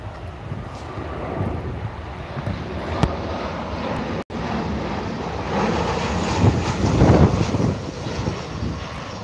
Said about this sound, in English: Here we go, guys, Ryanair touching down from Dublin